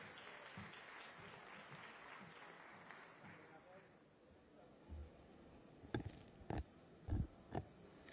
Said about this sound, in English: Let's put our hands together as we welcome Vivian Onano, our moderator this morning.